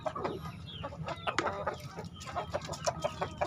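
A brown hen clucks repeatedly as she comes down to look for food in a backyard chicken coop, with short, irregular clucks close by and other fowl faintly in the background.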